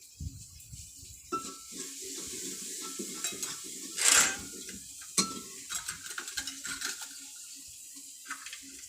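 Ginger and green chili land in frying onions, giving soft sizzling with spoon stirring and clinks against a pot, a sharper splash-like burst midway, all fairly quiet with no talking.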